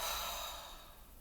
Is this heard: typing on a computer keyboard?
no